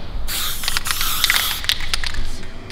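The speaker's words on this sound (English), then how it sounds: "Spray paint." Spray paint hisses from an aerosol can onto a traditional gyprock wall in steady, close bursts with brief pauses, loud and clear with no talking.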